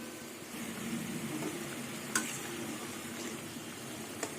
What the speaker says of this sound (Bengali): এবার ভাজা বেগুন দিয়ে কিছুক্ষণ ঝোলটা ফুটবে